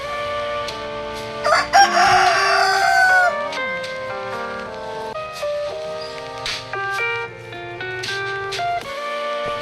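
A rooster crows loudly and close by, a long drawn-out call over other clucking chickens and a steady backyard farm background.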